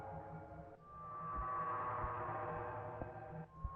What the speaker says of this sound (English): oh no, that's the planet scream again.